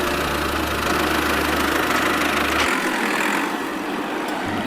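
A small government-scheme mini tractor owned by a farmers' self-help group runs with a steady low engine drone, loud and close, then the low rumble drops away partway through, leaving a lighter mechanical hum with no talking.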